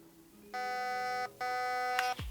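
An airsoft gun's ETU emits programming beeps: two long, steady electronic tones with a short gap between them, then a brief click at the end.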